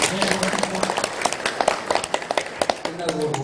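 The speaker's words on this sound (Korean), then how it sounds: "오늘 그 강연해주신 조석준 사무총장님께 다시 한번 박수 부탁드리겠습니다." Audience applause after a lecture by a secretary-general, a dense patter of clapping hands filling the room with rising and falling bursts, heard close and fairly loud.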